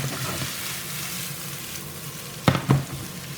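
Vegetables go into a pan of frying onions for minced beef with corn, a steady close sizzle followed by two sharp bursts as the vegetables hit the hot pan and get stirred.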